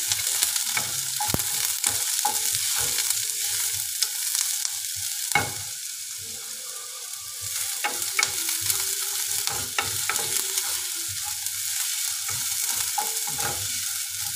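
Garlic and onion sizzle steadily in a frying pan, a continuous crackling hiss broken by occasional sharp taps and scrapes of a utensil stirring, close and fairly loud with no talking.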